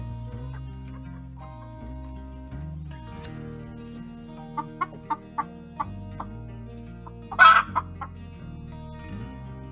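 Hens murmur and cluck softly inside a henhouse over a low steady hum, with a few brief sharper clucks and one louder squawk partway through.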